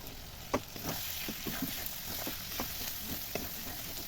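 Mutton pieces and mutton fat frying in hot oil for ghugni, a steady soft sizzle with scattered crackles and pops, fairly quiet and heard alone.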